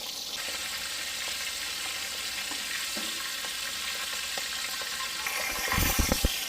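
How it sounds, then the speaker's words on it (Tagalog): Pork chops fry in oil in a pan with a steady, close sizzle throughout, growing louder and crackling more sharply near the end as a few pops and stirring knocks break through. "na-fry na natin yung ating pork chop"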